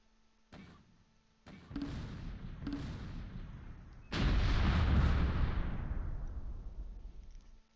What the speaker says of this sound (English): Mortars are hitting. Artillery is hitting.